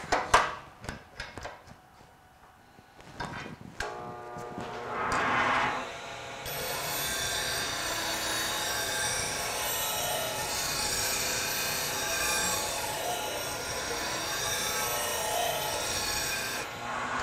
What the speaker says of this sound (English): But let's sharpen the gouge.